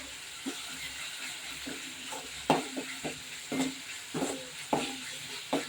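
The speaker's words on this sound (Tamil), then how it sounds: "நல்லா வதங்க இஞ்சி பூண்டு கொஞ்சமாக சேர்த்துக்கோங்க" Ginger and garlic sautéing in a pan give off a soft, steady sizzle, broken by several clinking stirs and scrapes of a spoon that come at a fairly regular pace, fairly close and quiet.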